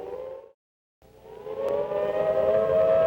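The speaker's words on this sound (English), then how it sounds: "The sirens are wailing outside." A civil defense siren wails loud and steady, cutting out briefly for a moment of silence before rising again into a sustained, swelling tone.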